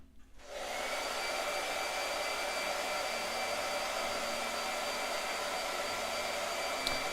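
A blow dryer starts up and then runs in a steady, loud, continuous whoosh that goes on without a break, with no voices.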